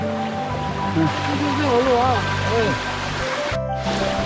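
A cool mountain stream rushes steadily in a forested valley on a hiking trail, with voices talking and calling over the constant flow of water.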